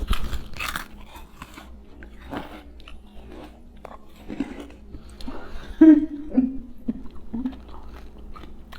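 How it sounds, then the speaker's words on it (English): Several crisp, close crunches of chewing vegan pork rinds, irregular bites with quiet gaps and some background shuffling. "It's fluffy and crunchy like I remember pork rinds. Better hear that crunch."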